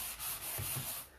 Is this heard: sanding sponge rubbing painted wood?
yes